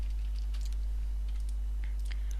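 Quick, light keystrokes tapped on a computer keyboard, a short scattered run of clicks over a steady low electrical hum.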